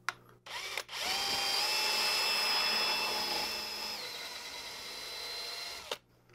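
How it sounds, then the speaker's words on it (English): A drill bores out holes in a 3D printed jig to fit quarter-inch threaded rod. The motor spins up, whines steadily for about five seconds, then cuts off, close and fairly quiet. "I'm going to make the holes bigger now until it's just big enough for this quarter inch threaded rod to go through."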